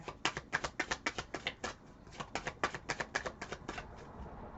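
A deck of playing cards is riffle-shuffled up close, two quick rattling bursts of rapid flicking clicks separated by a short pause, quiet and with no one speaking.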